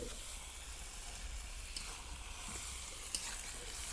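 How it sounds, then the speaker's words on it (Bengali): Meat braising and frying in a pan for a picnic meal of rice and meat curry, a steady close sizzle with soft hiss and occasional faint stirring clicks. "এবারে শুধু এই মাংসটা কষা হচ্ছে"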